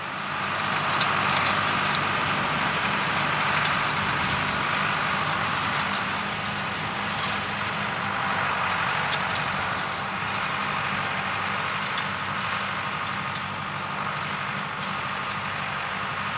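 A Ford 5030 tractor engine runs steadily at idle, a continuous loud, low rumble with an even drone that holds without pause, no voices over it.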